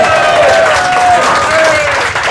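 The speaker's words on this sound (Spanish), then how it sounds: "Un aplauso," Applause fills a bar at the close of a Reg Metal Bar episode, dense and steady throughout with tonal sounds layered above it.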